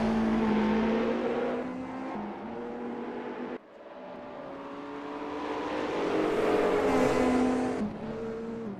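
Race car engines from a sim racing game with classic DTM 1992 touring cars, including a BMW, droning steadily with shifting pitch as cars run a circuit, continuous and fairly loud with no talk.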